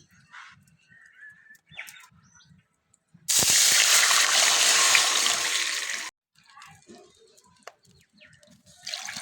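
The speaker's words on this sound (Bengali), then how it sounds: "জলটা আমি এখন মেপে দিয়ে দিচ্ছি" Measured water poured from a bowl into a hot wok while making soft rice-flour roti, a loud steady gush for about three seconds between quiet clinks and faint background sounds.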